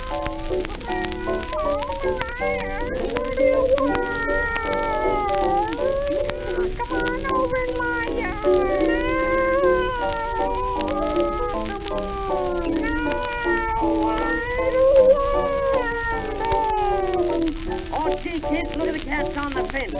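Meowing and drawn-out caterwauling cries from a 1928 novelty record, rising and falling continuously over a steady musical backing for the whole stretch.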